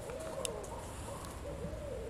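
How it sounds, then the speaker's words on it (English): Night woods with an owl giving several low, drawn-out hoots at a steady rhythm, faint and somewhat distant over a hushed background, with a small click or two. "That's an owl."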